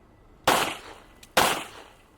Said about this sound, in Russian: мне показалось, что стрелять с этим пистолетом удобней